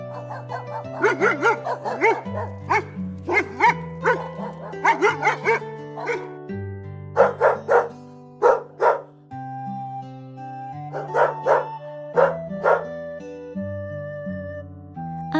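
A cartoon farm dog barks and yips repeatedly in quick clusters, with short pauses between them, over light melodic tones and chimes.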